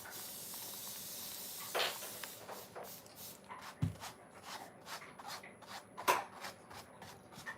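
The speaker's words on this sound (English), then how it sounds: "I think I'm going to spray the whole thing." A spray bottle mists water onto a painting of a sunset over the ocean: a few brief, soft spritzes stand out over a quiet background of faint rustling and handling noise.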